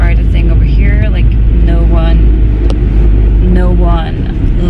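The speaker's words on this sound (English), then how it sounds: "I'm switching between second and third gear, in case you're familiar with like stick shifts" A manual stick-shift car drives through second and third gear with a steady low engine rumble from inside the cabin, while a person talks over it throughout.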